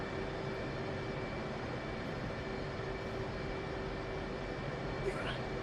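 F/A-18 jets taxiing in the DCS flight simulator game, heard as a steady, even engine whine and rumble that holds at a constant low level throughout.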